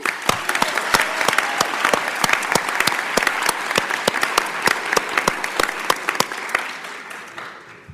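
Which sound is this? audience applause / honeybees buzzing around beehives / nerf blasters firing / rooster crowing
audience applause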